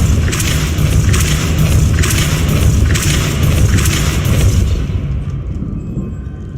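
The Confringo spell explodes in the video game Hogwarts Legacy with a loud, sustained booming rumble that pulses in several bursts before fading out at the end.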